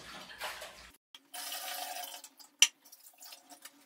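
Filtered drinking water from a jar runs over raw chicken as it is rinsed before cooking, a faint splashing and trickling that starts after a short silence and carries on in soft, uneven bursts.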